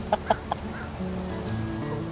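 Several short, close clucks from chickens in a mobile run made from an old trampoline, in quick succession, then a softer stretch of low murmuring and faint background noise.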